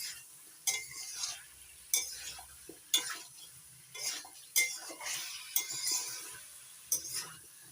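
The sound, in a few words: stirring potatoes and drumsticks with spices in a pan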